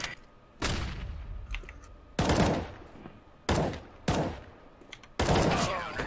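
Gunfire from the video game Counter-Strike, likely an AK-47: several sharp bursts of shots in quick succession separated by short pauses, loud and close, with faint clicking in between.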